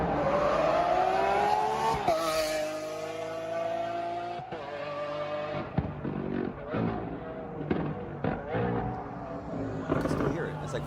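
A loud car engine roars and revs, rising in pitch and sweeping past up close, with a continuous harmonic whine over low rumble and people talking over it.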